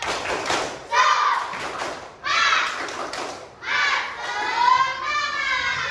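Children in a classroom performing the tepuk semangat rhythmic clapping chant, groups of claps and thuds between loud shouted chanting, several bursts in sequence, close and energetic.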